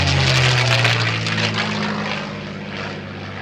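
A P-51 Mustang propeller fighter flies at an air show, its loud piston engine droning close by with a steady propeller hum that slowly fades as it passes.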